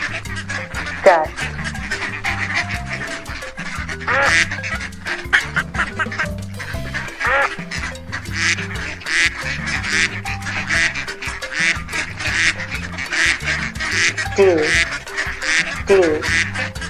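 A duck quacks repeatedly in short, nasal bursts spread across the clip, heard over a steady, looping children's music backing with no talking.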